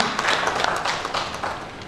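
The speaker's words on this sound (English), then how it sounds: "Please let us give a round of applause for everyone." An audience applauds steadily at a university ceremony with guests called to the high table, a dense, fairly loud patter of many hands that runs throughout without letting up.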